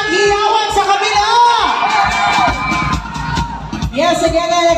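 A loud pageant crowd at a barangay Mrs. contest cheers, whoops and shouts close by, with children's voices and a host talking over the noise.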